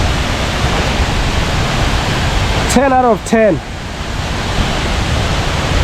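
Lone Creek Falls in Sabie pours as a constant broadband roar of falling water, close and loud, while someone speaks briefly over it.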